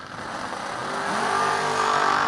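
Drag racing cars accelerating hard at a motorsports event, a loud, building engine roar with rising revs that swells steadily toward the end.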